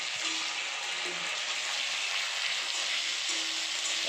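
Tarka sizzles steadily in hot oil as ginger-garlic paste and chopped tomatoes go into the pan, a close, even hiss with faint stirring that holds at the same level throughout.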